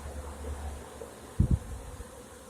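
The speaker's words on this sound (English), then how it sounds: "a few of the bees have come in to check out what's going on over here" Honey bees buzzing near a modified Warre bait hive in May, a faint low drone with one bee passing close and loud in a short double buzz midway.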